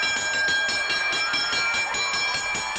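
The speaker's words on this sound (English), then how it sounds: "Over the rope, ring the bell." A boxing ring bell rings rapidly and repeatedly at a wrestling match, a bright clanging series of strikes that continues steadily throughout.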